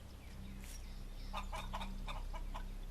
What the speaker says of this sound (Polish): Kurczak.